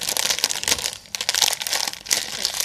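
Bag of Flamin Hot Cheetos, a 2-ounce size, crinkling loudly up close as it is handled and opened, in bursts of crackling plastic.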